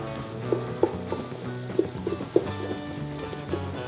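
Onions with brown sugar and bacon cook in a pot, a soft sizzle under a low hum, broken by several sharp clicks and knocks of a utensil.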